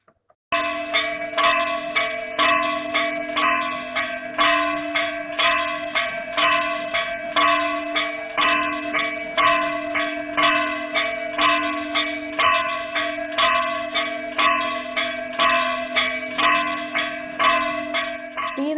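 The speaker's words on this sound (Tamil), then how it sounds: "திருமலை திருப்பதி ஏழுமலையான் கோயில் மணி ஓசையின் ஆடியோ வடிவ" A bell at the Tirumala Tirupati Venkateswara temple rings on and on in a fast, even rhythm, each loud metallic strike blending into a sustained ringing tone that continues without pause and without voices.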